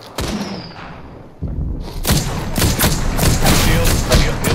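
Bursts of gunfire from a battle royale video game, a sharp rapid volley opening the clip and then dense repeated shots and impacts building loud and close, with a brief voice speaking over the fighting.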